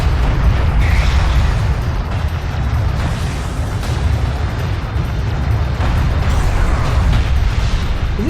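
Heavy, continuous rumbling explosions and booms of railgun fire in the Homeworld Deserts of Kharak strategy game, dense and loud throughout with a few sharper impacts.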